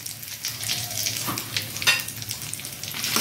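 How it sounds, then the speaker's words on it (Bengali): Spices with asafoetida fry in a pan for a flat-bean kofta dish, giving a bright, crackling sizzle that swells and spits close by, with stirring scrapes mixed in. "দিয়ে মশলাটা একটু ভেজে নেব"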